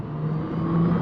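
Tesla Cybertruck pulling away on throttle, a smooth electric whir with a steady tonal hum that swells slightly louder toward the end, close and alone without talk.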